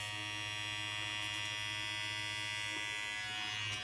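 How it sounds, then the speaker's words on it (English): Omorc dog grooming clippers shaving hair on a human arm, giving a steady, loud, close electric buzz with a constant motor hum that runs unbroken throughout. "Let's test it on my arm and see what it can do."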